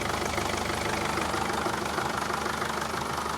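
The 2.2 CDI diesel engine of a Mercedes Vito 638 idles steadily and evenly, a close, continuous clattering rumble with no voices over it.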